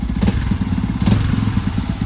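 A warmed-up motorcycle idles close by, its engine thumping in a quick, even rhythm with a low throbbing pulse and faint mechanical clatter, loud and alone without any talk.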